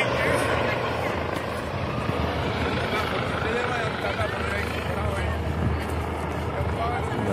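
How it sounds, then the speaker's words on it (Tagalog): Helicopter flying over the Mont-rebei gorge in Catalonia, Spain, a steady low rotor drone that holds throughout, heard from a distance with wind and hikers talking over it. "Ayan o, may helicopter."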